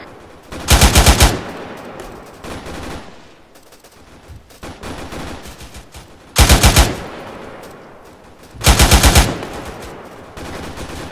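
A GPMG machine gun fires three loud, rapid bursts, each a tight string of shots lasting about half a second, with quieter outdoor ambience and faint distant noise between the bursts.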